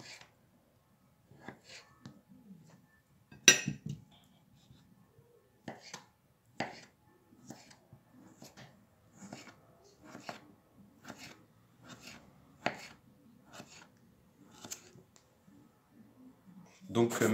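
Knife cutting potatoes into thin rounds on a board for a homemade tartiflette, a series of quiet, sharp, irregularly spaced clicks and taps, close and faint, with no talking.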